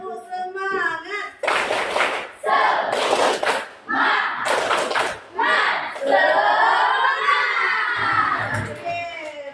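A classroom of schoolchildren claps in rhythmic bursts and shouts together in a call-and-response chant, following a teacher's brief spoken lead; the loud, punchy clapping comes in clusters separated by short pauses.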